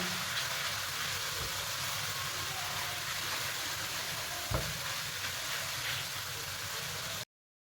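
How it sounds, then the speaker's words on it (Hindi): Ginger garlic paste frying in a pan until light brown, a steady close hiss and crackle of hot oil that runs continuously, with a brief scrape of stirring midway before it cuts off. "पेस्ट शामिल करके इसको कर लेंगे थोड़ी सी भुनाई, ताकि लहसुन का जो है ना वो कच्चापन दूर हो जाए"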